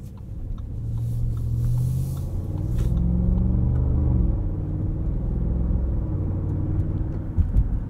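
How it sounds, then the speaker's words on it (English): A 2022 Audi SQ7 with its V8 engine under way, giving a steady, close, low rumble with droning harmonic tones that rise and fall slightly for the whole stretch, with no one talking. "my favorite thing about this SQ7 is just how nice that V8 sounds"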